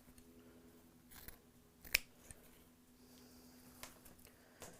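Quiet snips of scissors cutting grapevine wreath material, a sharp single cut standing out among faint rustling and a few softer clicks in a calm indoor setting.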